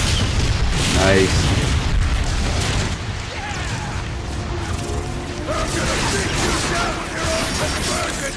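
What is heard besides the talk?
tank cannon explosions in Transformers Fall of Cybertron video game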